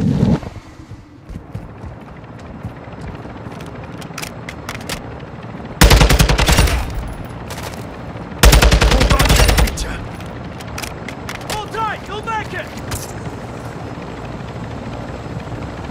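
Gunfire in the video game DMZ: two loud, dense bursts of automatic fire crack out over a steady helicopter rotor drone, with scattered single shots and faint radio-style chatter between.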